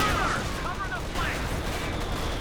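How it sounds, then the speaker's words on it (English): A Panzer IV tank taking a hit in a Company of Heroes battle, a short burst of gunfire and impact blasts with whizzing shell streaks, loud and close over a dense battle rumble. "Panzer IV takes a hit there."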